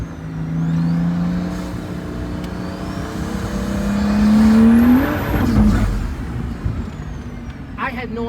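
Pagani Huayra RBC engine pulling hard at full power on a road, a sustained tone climbing in pitch to a peak near the middle before easing off, loud and close, with excited voices over it.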